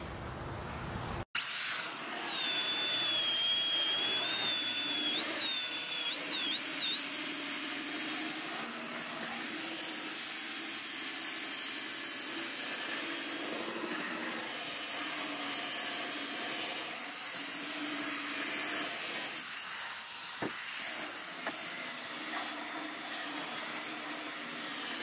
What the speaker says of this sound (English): So I'm going to sand both sides of it and see if I can make it kind of smooth